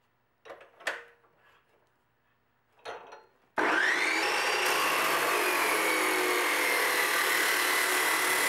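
Metal tube for a rock crawler buggy build is cut to length with a power saw: a couple of short knocks and handling sounds, then the tool starts abruptly and runs loud and steady, its high whine holding under the cut.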